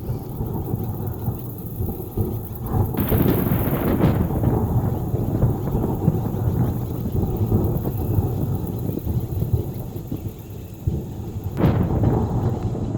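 A thunderstorm in Kenya, over a cave after months of drought, with deep, rolling thunder and a sharp crack near the start and again near the end, over a steady wash of heavy rain.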